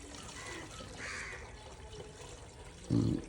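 Water pours steadily into a bucket at a house in Rajahmundry, making a soft continuous hiss. A louder short thump comes near the end.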